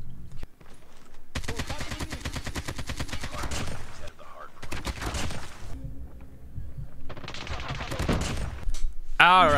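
AK47 gunfire in a video game rattles out in several rapid automatic bursts separated by short pauses, crisp and close, ending with a sharper electronic effect.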